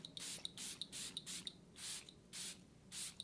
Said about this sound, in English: then I'll use the Peach and Lily spray